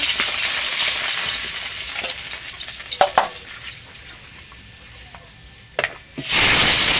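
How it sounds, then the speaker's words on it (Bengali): Tilapia fish fry in oil in a pan with a steady sizzle, broken by a few sharp scrapes and taps, before a louder hiss swells near the end. "মাছগুলো আমি ভেজে নেব, সব মাছগুলো এভাবে।"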